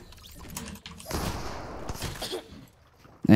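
Gunfire in Fortnite during a solo cash cup match, a few blasts followed by a rough, noisy stretch of shots and game sounds, ending in a sudden loud hit.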